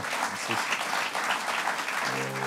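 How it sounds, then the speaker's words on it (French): Audience applause at the close of a French talk on Jewish history in France, a dense, steady wash of many hands clapping for a couple of seconds with no voices over it. "Je crois qu'on peut vraiment vous, vous applaudir."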